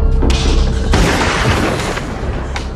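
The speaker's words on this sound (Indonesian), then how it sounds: "Akibatnya Lauren pun harus tewas ditembak si Howard" A gunshot in a dramatic film scene lands as a loud booming blast, then a broad noisy wash that lingers and fades over a few seconds with no speech.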